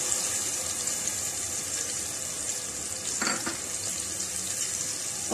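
Chopped onions sizzle in melted butter and oil in a pan for dal makhani, giving a steady, even hiss of frying with a brief stirring scrape partway through.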